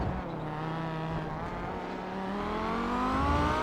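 Audi race car engine heard onboard in iRacing during the Kamel GT Championship at Circuit de la Sarthe, Le Mans: a steady, loud, high-revving drone with harmonics slowly rising in pitch as it accelerates, with no talk over it.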